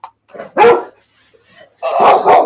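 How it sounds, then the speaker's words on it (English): A dog barks in short loud bursts close by, a couple of isolated yips followed by a pair of strong barks after a brief pause. "because my dog's freaking out"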